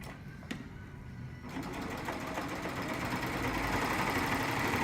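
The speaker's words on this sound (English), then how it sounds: "When you're sewing your jersey on a serger, you don't need stabilizer." A serger stitches jersey T-shirt quilt blocks. A light thump comes first, then after about a second and a half the machine starts a rapid, steady mechanical whir that holds to the end.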